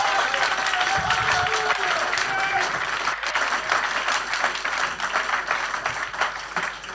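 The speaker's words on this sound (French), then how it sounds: "Applaudissez pour vous-même." Heavy, continuous applause fills an Easter Sunday evening church service as the congregation claps loudly and steadily, with faint voices and cheers mixed into the crowd noise.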